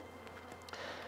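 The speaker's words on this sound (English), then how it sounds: "Still got foraging bees." Foraging honeybees buzz around a weak, failing hive, a continuous close drone with a few brief knocks and shifts in loudness, no talk.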